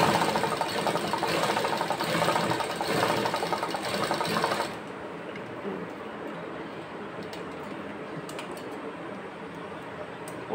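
A sewing machine runs a steady, close whirring stitch along a fabric edge for several seconds, then stops, leaving faint clicks and room noise.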